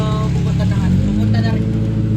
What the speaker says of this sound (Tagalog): Ang ingay na naman ng sasakyan eh.